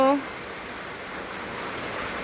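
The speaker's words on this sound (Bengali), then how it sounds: "হঠাৎ করে আবার বৃষ্টি চলে আসলো" Sudden rain falling steadily as a broad, even hiss that fills the background at a constant level after a brief tonal sound at the very start.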